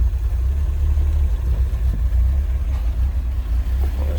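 A 1930 Chevrolet AD Universal engine idles in neutral with a steady, low rumbling chug, loud and close, with a slightly uneven putter and no voices.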